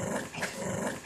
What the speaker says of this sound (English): Dogs resolve conflict through barking and growling.